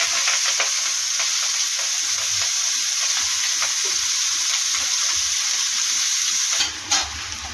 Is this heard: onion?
yes